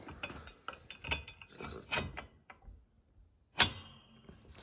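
A hitch part on a Massey Ferguson 35 tractor slides and clicks into place, with several close ratcheting metallic taps followed after a pause by one sharp loud clack as it locks.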